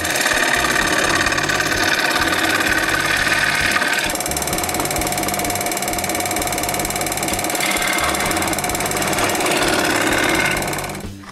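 A loud, steady buzzing band saw cutting dovetail sockets in wood for dresser drawers, running continuously, its pitch shifting partway through and then winding down at the very end.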